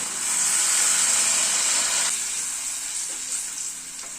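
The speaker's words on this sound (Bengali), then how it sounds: "এবার একটু গরম জল অ্যাড করব" Hot water goes into a pan of fried poppy seed paste that is releasing oil, for a bhetki fish curry. A loud, steamy sizzle and hiss builds, then slowly eases with no talking.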